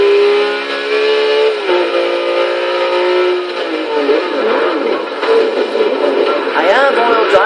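An all-wheel-drive car in Forza Horizon 2 revs hard while sliding, its steady engine drone falling in pitch, then wavering and rising again with sharp surging revs near the end, loud and continuous.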